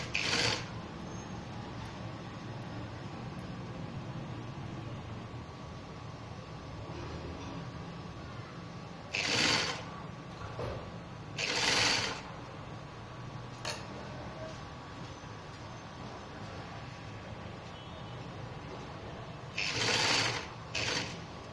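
A sewing machine stitching shirt sleeves onto a designer shirt runs with a steady mechanical whir throughout, broken by several short louder bursts of fast stitching, with no talk.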